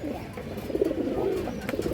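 Pigeons of a fancy, high-quality breed coo softly in a low, steady murmur under a faint background hum, with no other sounds standing out.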